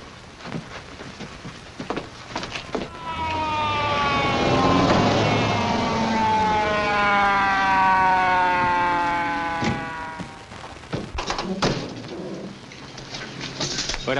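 An ambulance siren wails in a long rising and falling tone that swells loud in the middle and fades, with bursts of street noise before and after.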